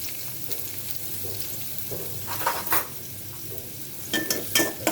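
Garlic and onion dropped into hot oil crackle in a steady, close sizzle, joined later by metallic scrapes and knocks of a utensil against the pan, with no one speaking.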